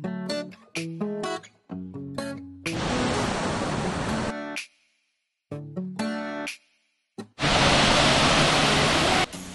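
Rushing water from a multi-level waterfall at Luang Prabang, Laos, heard as steady loud broadband roars in two long stretches, alternating with bursts of tonal music.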